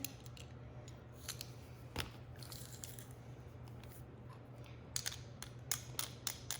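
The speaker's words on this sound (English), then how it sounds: "So we're gonna mince our garlic in here." Garlic is minced in a small chopper, giving a series of close crunching, clicking chops that come irregularly, then quicken toward the end, over a steady low hum.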